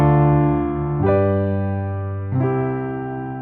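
A piano plays a 2-5-1 chord progression, three sustained chords struck one after another about a second apart, each ringing clearly and decaying, solo with no voices.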